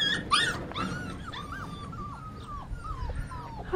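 Several Goldendoodle puppies whine and whimper in rising and falling high-pitched cries, repeated in quick succession and close by, with a short yip near the start over a low background rumble.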